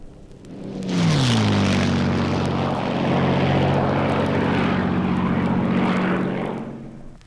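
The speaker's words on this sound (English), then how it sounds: "It was the last American propeller-driven fighter to see active service in the Korean War." A propeller-driven U.S. Air Force fighter from the Korean War era roars past, its engine drone rising loudly after a quiet second, holding for several seconds with a falling pitch, then easing away.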